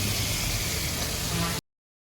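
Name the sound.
onions and tomatoes sautéing in oil for mutton chukka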